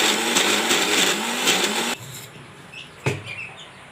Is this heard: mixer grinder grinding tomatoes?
yes